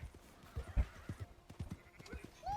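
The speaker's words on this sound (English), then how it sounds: "Oh god, there's a horse." A horse in the video game Genshin Impact clip-clops along in steady hoofbeats, then gives a short whinny near the end, fairly faint and mixed with light background sound.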